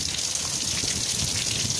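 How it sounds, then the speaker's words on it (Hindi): Heavy monsoon downpour pours steadily, a dense continuous hiss of rain hitting surfaces close by, with no voices. "मूसलाधार बारिश है, रमज़ान की बरकत है और अल्हम्दुलिल्लाह खूब तेज़ बारिश है"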